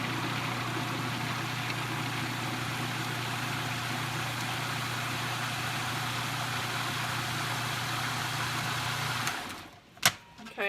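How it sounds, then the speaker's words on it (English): A food processor blends hummus of garlic and garbanzo beans with a steady, loud motor whir for about nine seconds, then cuts out and is followed by a few brief clunks. "I'm going to give this a whirl in the food processor for just about 10 seconds."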